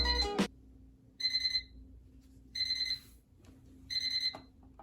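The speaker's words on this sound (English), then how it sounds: "it has a pretty obnoxious alarm. And I'll play that for you right now." Wake-up light alarm clock sounding its alarm tone: three loud bursts of rapid electronic beeping about a second apart, close and alone against a faint hum.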